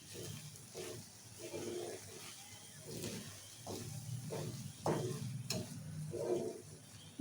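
A spoon stirring sugar into a sweet mixture in a pan, with faint soft scraping strokes and a low sizzle repeating in an uneven rhythm, quiet and close.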